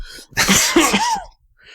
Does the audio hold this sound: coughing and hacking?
yes